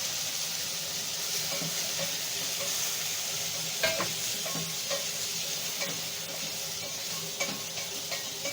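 Beef being stirred and fried in a hot pan gives a steady, close sizzle, broken by scraping stirs and occasional sharper clatters from the utensil against the pan. No one speaks.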